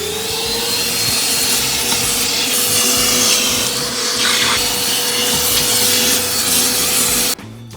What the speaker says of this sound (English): I'm gonna vacuum all the rest of that out